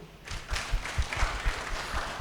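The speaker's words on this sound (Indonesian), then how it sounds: "Beri tepuk tangan dulu" Guests at a Batak wedding ceremony break into scattered clapping after the vows, a brief, fairly soft burst of applause that starts a moment in and carries on unevenly to the end.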